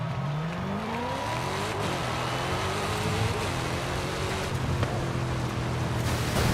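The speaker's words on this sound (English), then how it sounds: "Now we got a supercharged RS5" A supercharged Audi RS5 from Forza Horizon 5 revs hard, its engine note rising and falling through repeated gear-change sweeps with a steady roar and no talk over it.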